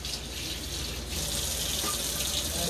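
A kitchen tap runs steadily into a sink while hands are washed, making a continuous close gush of water with no pauses and no talk.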